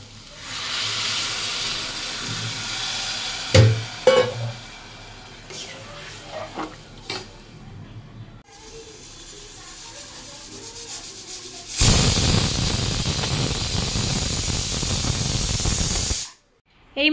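Soaked rice and dal sizzle in oil for khichuri with a steady, rough frying hiss and scattered scraping stirs, then a louder, fuller sizzle for several seconds before it suddenly cuts off.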